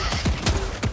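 Rapid bursts of gunfire from the video game Helldivers 2, several loud close shots in quick succession over about a second, with no talk.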